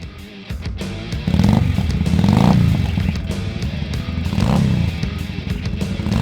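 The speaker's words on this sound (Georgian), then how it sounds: "დღეს განვიხილავთ Honda Shadow Steed 600-ს." Honda Shadow Steed 600 motorcycle engine runs close by, a loud, steady low rumble that swells slightly as the throttle rises and then holds a constant idle-to-mid rev.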